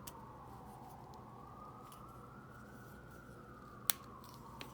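A Monteverdi refill slides into a Lamy Dialog ballpoint pen and clicks into place: one sharp, small click near the end and a fainter tick after it, close and quiet against a low background hum.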